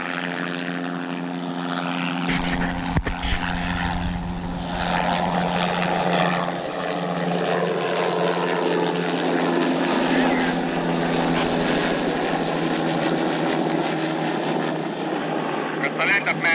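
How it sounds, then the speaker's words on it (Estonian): A helicopter passes directly overhead during a fishing trip in Lapland, its loud steady rotor and engine roar filling the air throughout, with a sharp click partway in. "See on teine helikas, otse üle minu lendab."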